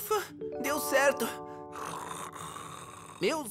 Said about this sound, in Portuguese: Meus amigos, como ele ronca.